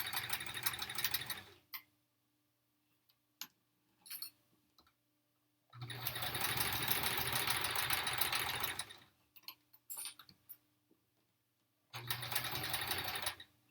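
Sewing machine stitching a quilt block in three bursts of steady whirring, each a few seconds long, with quieter gaps of small clicks and handling between them; no talking.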